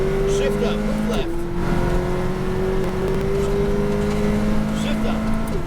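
McLaren 570S GT4 race car accelerating at full power, heard from inside as a steady, loud engine drone that rises gradually in pitch, with a brief dip as it shifts, under the steady hum of the cabin.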